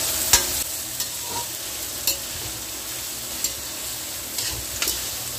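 Onions and marinated chicken frying in a pan while being stirred: a continuous close sizzle broken by sharp spatula scrapes and taps roughly every second, with no talking.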